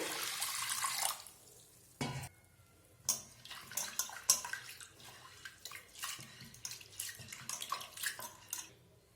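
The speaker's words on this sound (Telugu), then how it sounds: "ఈ కందిపప్పులోకి నీళ్ళు పోసుకొని బాగా కడుక్కుందాము" Toor dal is washed by hand in water inside a pressure cooker, giving quiet, intermittent sloshing and splashing with a few sharper swishes and drips.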